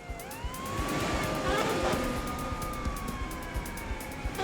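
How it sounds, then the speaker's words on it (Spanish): Police sirens wailing nearby in a street, a rising and falling tone held steadily over traffic rumble and scattered noises. "El sonido cercano de las sirenas evitó que la joven resultara herida de gravedad."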